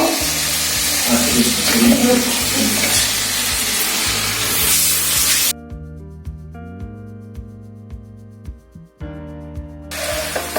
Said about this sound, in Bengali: লো ফ্লেমে এটাকে একটু ভেজে নেব।